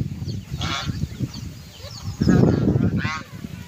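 Chickens call nearby with a few short, harsh, honking squawks separated by brief pauses and low background bustle.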